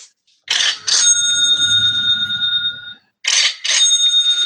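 Ka-ching sound effect played from a sound pad, a bright cash-register chime heard twice: a short rattle followed by a ringing bell tone that sustains, then a second shorter repeat, loud and clear.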